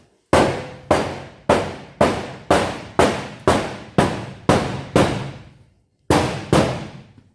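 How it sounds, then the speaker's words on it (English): Nine sharp, evenly spaced thuds of a dead blow hammer tapping a panel into place on an Opel Manta under restoration, each ringing briefly, then a pause before two more taps. "Then I'm going to get our dead blow hammer. Just give this a bit of a tap down."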